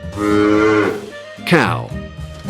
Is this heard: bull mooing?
yes